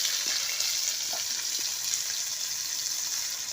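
Koi fish frying in a kadai with salt and turmeric gives off a steady, bright sizzling hiss throughout, with a few soft clinks and no voices.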